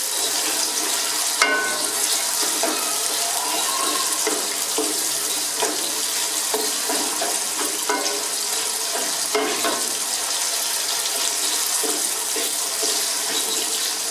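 Chopped tomatoes fry in a pan for garlic bhindi, a constant bright sizzle with intermittent spoon scrapes and stirring clatter throughout, no voices.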